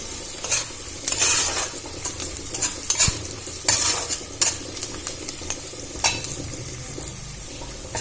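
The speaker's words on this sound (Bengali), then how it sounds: "2টো লবঙ্গ আর দারচিনি দিয়ে ভালো করে ভেজে নেব" Two cloves and cinnamon fry in oil in a pan for rui fish kalia, a low sizzle broken by repeated scraping and clinking of a spoon stirring against the metal, close and fairly quiet.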